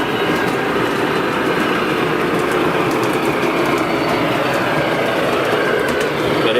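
A model train diesel locomotive rumbles steadily, its sound-decoder prime mover droning at a constant level with a dense, even texture and no pauses, with nothing else audible over it.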